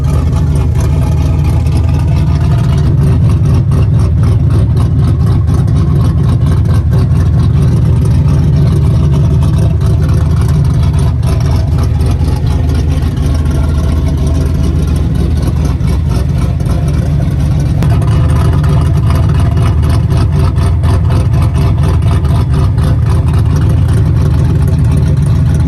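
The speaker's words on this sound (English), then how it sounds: "I know y'all want to hear some chop, so let's get some chop going." A modified car engine idles loud and close with a lopey, choppy camshaft rhythm, the uneven loping pulses repeating steadily throughout with no voices over it.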